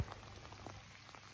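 Rain falls on an off-grid homestead in winter, a soft steady patter of drops on surfaces, faint and continuous with no voices.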